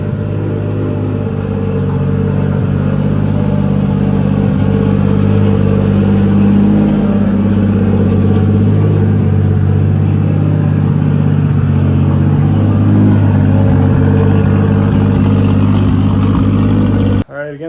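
A Toyota 1JZ-GTE VVT-i engine swapped into a Ford Foxbody runs steadily at close range, its loud, even drone holding for most of the stretch before cutting off abruptly near the end.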